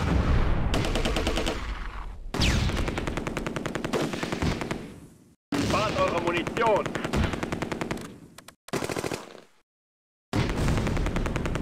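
Machine gun fire in the World War II tactics game Close Combat: A Bridge Too Far, long loud rattling bursts of rapid shots broken by short silences, close and dominant throughout.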